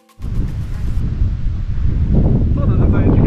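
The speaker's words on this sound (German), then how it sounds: "Bisschen windig, regnet, völlig in Ordnung." Wind gusting outdoors on a rainy hiking trail through open countryside near Velbert, a steady loud rumbling roar against the microphone that persists throughout and swells slightly toward the end.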